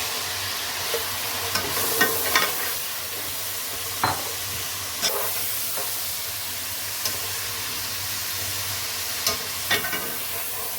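Chicken pieces fry with browned onions in a pot for a Murgh Pulao, giving a steady close sizzle throughout with occasional sharp scrapes and clinks of a stirring spoon.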